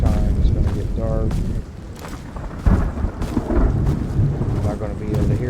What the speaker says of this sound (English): Not going to be able to hear anything because of this damn storm